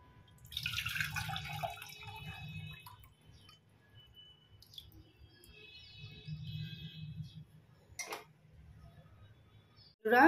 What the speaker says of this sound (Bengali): এবারে এই দুধ আর দইয়ের মিশ্রণটি ঢেলে দিচ্ছি।